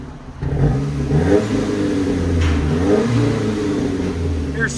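A 2004 Nissan Frontier with a 2.4L engine, stick shift and a Flowmaster Delta 40 series exhaust revs up and settles in a couple of swells, a deep clean rumble close by with voices faintly underneath.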